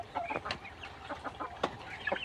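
Native and Sonali chickens on a small farm make faint, scattered clucks and brief calls over a low background hum, with no single bird standing out.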